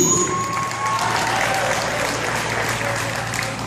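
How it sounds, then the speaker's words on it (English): Loud, steady clapping from an event audience carries on without a break, dense and close, with faint crowd murmur beneath it. "Give yourself a round of applause if you think you're looking good."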